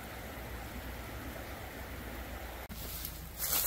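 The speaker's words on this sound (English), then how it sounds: "we're right next to the river" A river runs right beside a campsite near a historic gold mine, its water swollen high and giving a steady, soft rushing wash that continues throughout, with a brief dropout and a louder burst near the end.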